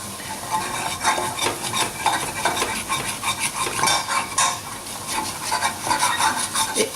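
Flour cooking in a pan as the base of a creamed mushroom sauce, stirred steadily with a utensil: continuous close scraping and clinking against the pan over a faint sizzle, with no talk.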